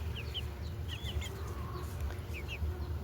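Parrot-beak breed chickens, a 1 kg rooster and smaller hens, cluck nearby, with short high chirps scattered over a steady low background hum.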